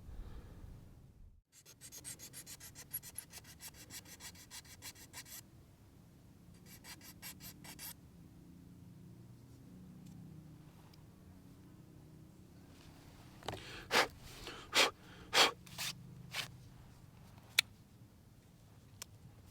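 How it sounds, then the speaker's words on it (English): Knife carving the back nock of a handmade wooden arrow, with bursts of scraping and shaving strokes, then a series of sharp, separate cuts toward the end, close and quiet. "I'm going to start carving out my back nock. Once again, starting off with my knife choking up at the top."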